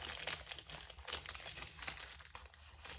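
Crinkling plastic handling of a Pokémon card, a Poussacha ex, being slid into a protective plastic sleeve, soft continuous rustle close up with no talking.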